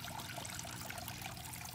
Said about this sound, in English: we got a pump in here, pumps the water through this hose and into this bucket filter that I made